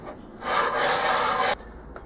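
A cast iron headstock casting is rubbed across sandpaper laid on glass in one steady, loud, gritty stroke of about a second, with quieter scraping before and after.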